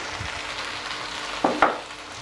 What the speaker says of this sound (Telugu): నేను హైలోనే పెట్టి వేయించుతున్నాను.